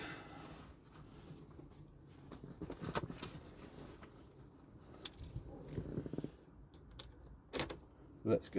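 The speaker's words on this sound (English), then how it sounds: "Keys." Car keys jangling during a non-start repair on a 2008 Ford Focus Cabriolet, quiet irregular metallic clinks and rattles with a few sharper jingles, close by, alongside faint handling noises.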